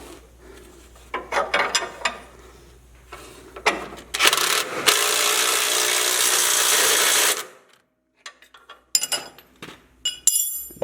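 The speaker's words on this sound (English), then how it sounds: "now I can just put the 3/4 inch wrench on the back side of this mount" A 3/4 inch wrench working a bolt on the back side of an engine mount on a Jeep Cherokee, giving metallic clicks and scraping, then a long steady mechanical grinding burst before a few sharp clinks at the end.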